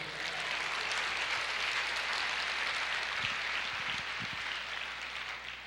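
A church congregation applauds during a worship service, a continuous wash of clapping with a low steady hum underneath and a few heavier thuds near the end.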